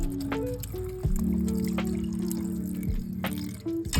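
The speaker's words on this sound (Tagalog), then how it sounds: "So iwawash ko lang muna yung fish." Tap water runs over a small tuna (tulingan) as it is rinsed by hand in a sink, a steady splashing trickle broken by drips and brief handling clatter, fairly close with no voices.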